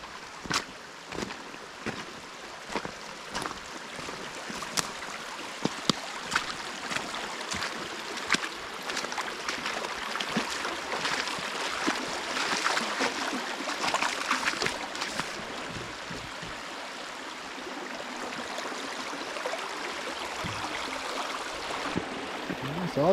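A creek on a solo hike flows and splashes steadily, a broad continuous rushing wash with scattered small clicks and bumps, fairly close, with no one talking.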